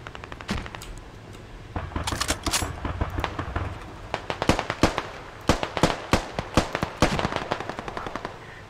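Gunfire crackles through a video game squad battle, with sharp bursts and single shots from near and far, some rapid automatic strings, over a steady ambient rumble.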